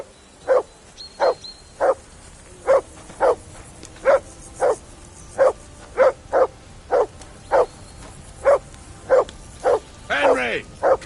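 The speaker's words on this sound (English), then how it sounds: "That barking was a pain in the ass." Dog barking in Kingdom Come Deliverance II, a steady series of about seventeen sharp, evenly spaced barks over a quiet ambient bed, with a brief whine near the end.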